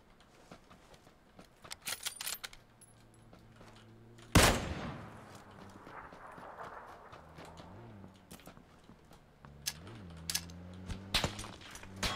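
Sharp gunshots ring out in the PUBG battle royale video game: scattered single shots and quick bursts, one loud blast standing out, over quieter footsteps and movement.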